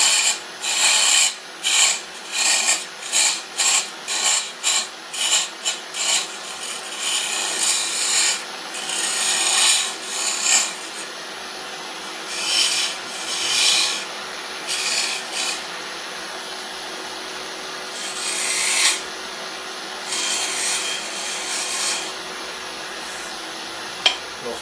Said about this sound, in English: Now with this very sharp skew, I'm going to do some decorative cuts right here on the end.